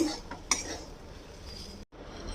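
A spoon stirs papaya curry in a pot, cooked without oil, with a continuous scraping swirl and one sharp metallic clink of utensil against pot, fairly close and steady, with a brief pause near the end.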